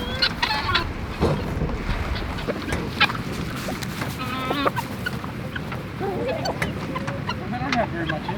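Chickens and other farm animals are let out on a farm, with scattered clucks and bird calls over a busy, noisy yard while people talk throughout.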